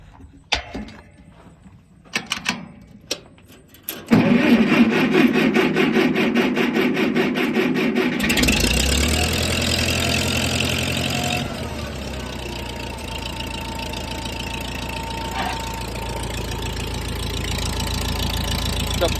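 A Case tractor engine cranks with a few sputtering catches, then fires and settles into a loud, rough, knocking idle with a leaking manifold plate, running steadily close by.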